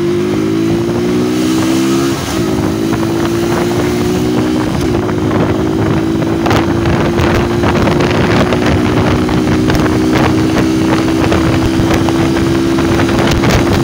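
Strong wind roar buffeting the helmet of a motorcyclist riding in cold weather, loud and constant over a steady engine drone that rises slightly in pitch as the bike accelerates.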